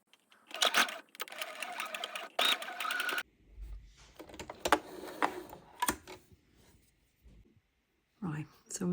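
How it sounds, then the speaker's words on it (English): A sewing machine stitches a jumpsuit seam in quick bursts of fast mechanical whirring and clatter, starting and stopping several times, quiet and close, with soft handling noises between runs. "pin it in place and sew the seam to sew it together"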